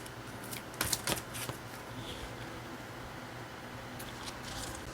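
Oracle keyword cards being shuffled and drawn for a tarot reading, a quick burst of riffling card flutters followed by quieter sliding and a few soft snaps, close and fairly faint.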